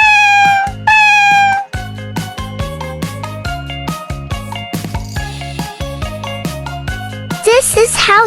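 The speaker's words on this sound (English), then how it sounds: "This is how cat looks like in real life." A cat meows a few times over steady children's background music, the calls fairly clear and near at the start, then the music carries on alone.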